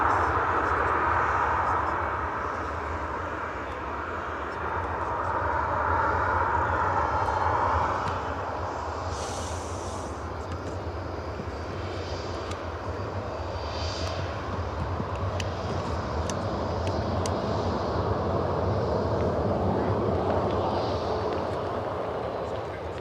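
An Air Canada airliner at Manchester Airport gives off a sustained engine roar that swells and eases in long waves, with faint voices in the background at times.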